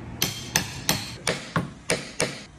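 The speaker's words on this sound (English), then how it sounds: "Now I'm gonna attempt to hammer a nail in." A hammer drives a huge nail into wood with seven sharp, evenly spaced blows, close and clear with no talking.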